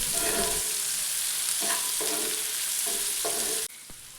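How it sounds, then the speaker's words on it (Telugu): Onions and green chillies sizzle steadily in hot oil for egg curry, with a few stirring scrapes before the sound cuts off abruptly. "ఇవి గోల్డెన్ బ్రౌన్ కలర్లోకి వచ్చే వరకు మనం ఫ్రై చేసుకోవాలి"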